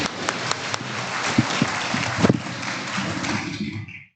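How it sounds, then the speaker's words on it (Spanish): Applause from a crowd at an agricultural forage-improvement workshop, a dense wash of clapping with a few sharper claps standing out, fading away at the end. "Les brindamos un aplauso por este grupo de trabajo tan sólido."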